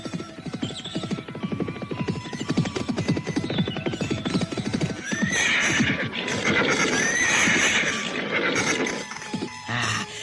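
A horse ridden toward a palace neighs and whinnies loudly while its hooves clip-clop in a steady rhythm, close and prominent throughout.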